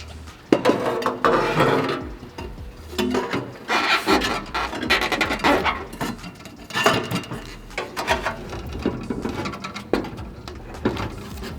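A Scorpion GPF delete exhaust pipe being fitted onto a Toyota GR Yaris, with close metallic scraping, rubbing and knocking of pipework in uneven bursts and a sharp clank early on.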